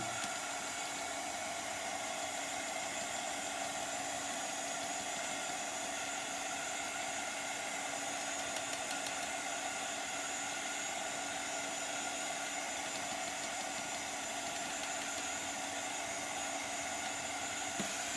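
A hair dryer blows steadily and loudly on a painted craft project between paint layers, a constant rushing whoosh running unbroken from start to finish with no talking.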